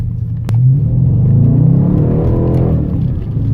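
A 2017 Dodge Charger R/T's 5.7-litre Hemi V8 engine revs up and accelerates with a deep, throaty rumble that builds and holds steady, loud and close.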